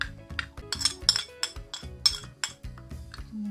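Red pepper, cumin, black pepper, turmeric and thyme mixed into breadcrumbs in a bowl, with quick irregular clinks and scrapes of a utensil against the dish, close and with no voices.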